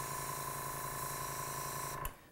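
Airbrush from a Julia airbrush system with compressor, a steady hissing spray of air and paint that holds evenly and then cuts off abruptly near the end.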